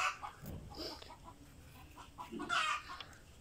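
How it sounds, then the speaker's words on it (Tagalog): A chicken clucks close by in a few short, scattered bursts. The sound is fairly quiet, with brief pauses between the calls. "Putak ng putak din eh, kaingay."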